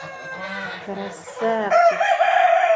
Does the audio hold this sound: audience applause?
no